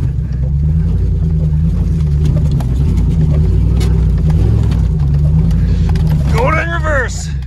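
A 2021 Ford F150 Limited pickup engine runs loud and rumbling after its exhaust fell off, a constant low droning roar with shifts in revs, and someone talks over it.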